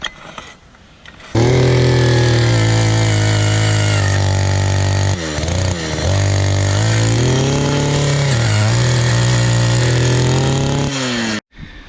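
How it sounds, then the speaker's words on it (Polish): A petrol-powered auger drills a well, its engine roaring loud and close with steady pitch shifts as the load changes, starting after a quiet opening and cutting out just before the end. "mamy spalinówkę, to możemy szybko podciągnąć"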